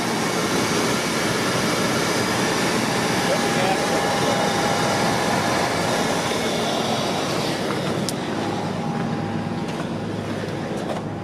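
An old Jeep's engine idling after repairs, a steady, dense mechanical rumble and whir that holds evenly for about eleven seconds, loud and close, with a faint tonal whine partway through and someone talking over it.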